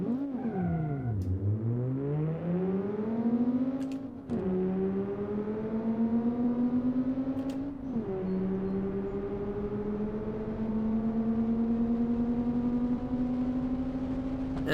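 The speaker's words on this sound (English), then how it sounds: "So we're going to race the stock Jetta versus the tuned one first." A tuned Mk6 VW Jetta with a 5-cylinder engine races flat-out in BeamNG.Drive, the engine note climbing steadily through gears with brief drops at each quick flat-foot shift, loud and continuous with no talking.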